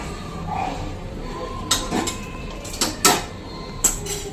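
A spoon stirring oil into food in a metal pot, giving a few sharp scrapes and clinks at irregular intervals over a low background hum, moderately close.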